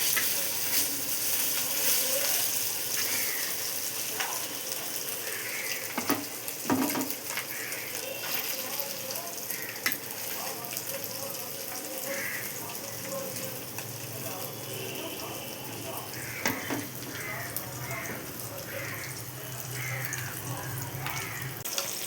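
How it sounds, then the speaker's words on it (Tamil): Fish fries in oil on a dosa tawa with a soft, steady sizzle and scattered crackles, mixed with kitchen clatter and other household background noise over a long stretch. "அடுப்பில் தோசைகளை வச்சு எண்ணெயை ஊற்றி மீனை வைக்க வேண்டியதான்"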